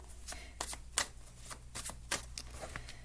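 A deck of cards being shuffled by hand, with a run of quick, crisp riffles and flutters recorded close and fairly quiet, without any talking.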